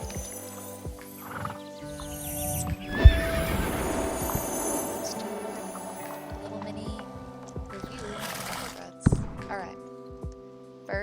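A video game horse's idle animation gives loud, close whinnies and neighs with a few hoof clip-clops and thumps, while a voice talks softly underneath.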